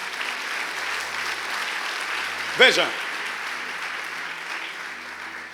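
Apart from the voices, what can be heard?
congregation applauding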